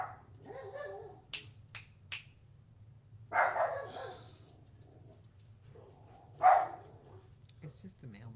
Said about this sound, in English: I told you he was going to bark.